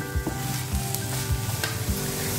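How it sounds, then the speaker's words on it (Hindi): Vegetables sizzle lightly in a pan while being stir-fried for homemade atta pasta, with a steady crackle and regular spatula scrapes roughly every half second. "सारा सब्जियां हल्का भून गई।"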